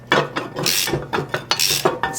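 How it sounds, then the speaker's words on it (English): A ratchet tightens a 17mm socket on a bearing puller while rebuilding a Puch e50 moped engine, giving close, crisp clicking strokes in quick succession over about two seconds. "we're just going to tighten down on this 17mm socket. This should pull the bearing right off."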